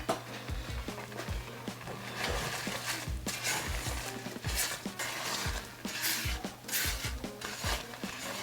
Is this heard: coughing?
no